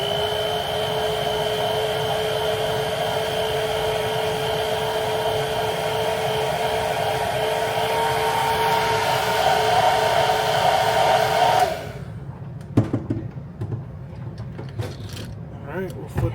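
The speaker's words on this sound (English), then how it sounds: "Hit it with a hair dryer real quick" Sustained loud whir of a hair dryer drying paint on a fishing lure for roughly twelve seconds, stopping abruptly and followed by faint clicks and handling noises.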